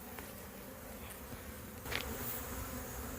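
Honey bees buzzing in a continuous low drone around an open hive, with individual bees flying close now and then.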